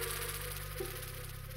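Exploding flies in The Binding of Isaac: Repentance: a steady insect-like buzzing drone, continuous and fairly close, with a low hum underneath that shifts pitch partway through.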